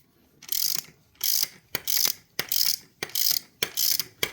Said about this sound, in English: And all you have to do is tighten it up. Put your ratchet on.